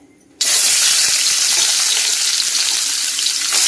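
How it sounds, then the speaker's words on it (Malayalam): Grated coconut fries in hot oil in a pan, a sudden loud burst of sizzling that starts after a brief quiet moment and then holds as a dense, steady hiss without talk. "എണ്ണ ഒഴിച്ചിട്ട് നമ്മൾ തേങ്ങ ഇതിനകത്തിലിട്ട് മൂപ്പിച്ചെടുക്കാനായിട്ടാണ്."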